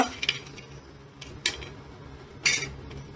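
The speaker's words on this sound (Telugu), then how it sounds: "వేరుశనగ గుళ్ళు డ్రై రోస్ట్ చేయాలన్నమాట" Raw peanuts dry roasted in an iron pan, light rattling and scraping of nuts and a stirring utensil against the metal, a few clinking strokes over a quiet background, close and soft.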